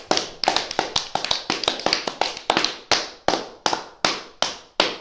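Hand clapping from one person in a steady run of about fifteen sharp claps that start quick and slow toward the end, close and fairly loud with no talk over them.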